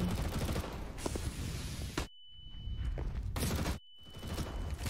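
Rapid bursts of gunfire from a Counter-Strike match on the Inferno map, dense and loud with two abrupt silent cuts between volleys, no talk over it.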